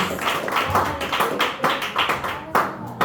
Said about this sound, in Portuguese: Bem forte as palmas para o Senhor.